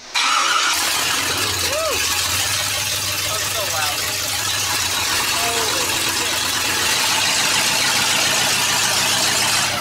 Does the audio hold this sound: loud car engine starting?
yes